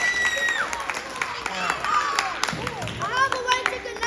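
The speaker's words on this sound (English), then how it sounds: "Let's give her a round of applause." A small audience claps at a children's science demonstration about energy, brief uneven clapping mixed with excited voices, squeals and bright tonal sounds, fairly close and lively.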